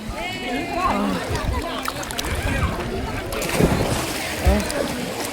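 Water sloshes and splashes around a small boat as paddles dip and pull, with people talking close by.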